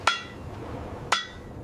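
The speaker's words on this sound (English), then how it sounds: "Hammer that stake down, quick." Two sharp metallic hammer strikes on a stake being driven into desert ground, about a second apart, close and distinct against a low wind-like background with no talking.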